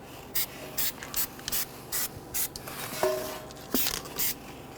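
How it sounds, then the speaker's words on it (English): Anti-seize compound is brushed onto the hub face of a Dodge Charger in a run of about ten short, regular scratchy strokes. The strokes are close and clear and nobody speaks. "put a light coat of anti-seize compound on our hub face"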